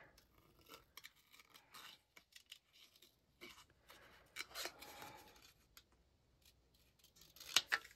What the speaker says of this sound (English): We're just going to fussy cut that out.